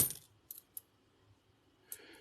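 Australian 5-cent coins clink and drop onto a surface during a coin search, several sharp, close metallic taps scattered across a quiet background with no speech.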